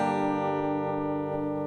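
Acoustic guitar strumming the verse chord progression of a song, sustained ringing chords heard close and clear with no voice over them.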